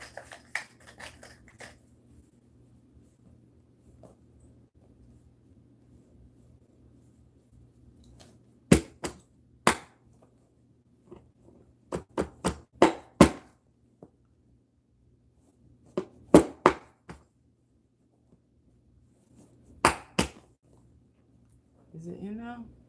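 Nails hammered into the wooden frame of a tufted mirrored ottoman, heard as sharp percussive hits in short irregular bursts, several quick strikes at a time separated by pauses, fairly close and loud over a quiet background.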